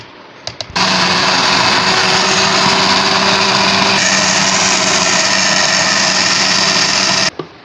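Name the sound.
blender mixing mango paste with fresh cream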